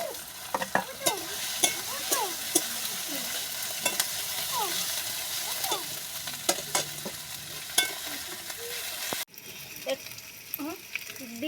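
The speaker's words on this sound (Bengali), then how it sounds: "আর এখানে আদা রসুন বাটাটা দিয়ে দেব। এখানে রয়েছে টমেটো দিয়ে দেব।" Ginger-garlic paste and tomato fry in a pan with a steady, close sizzle while a utensil stirs and scrapes in repeated quick strokes; faint talking sits in the background, and the sizzle briefly drops near the end.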